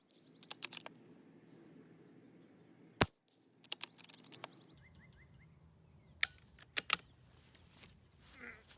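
Sharp .22 rifle shots fired with Norma Tac 22 ammunition at a target range, several crisp cracks spaced irregularly over a few seconds with quiet handling noise between them.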